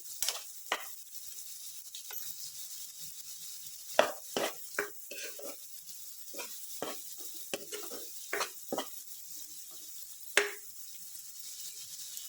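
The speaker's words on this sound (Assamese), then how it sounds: "ইয়াতে এতিয়া মই এচামুচ মাখন দি দিছোঁ। এই মাখনটো দিলে টেষ্টটো বৰ ধুনীয়া হয়।" Butter added to restaurant-style Chinese vegetable fried rice, stirred in a pan: faint background sizzle punctuated by irregular spatula scrapes and taps on the pan, close but quiet.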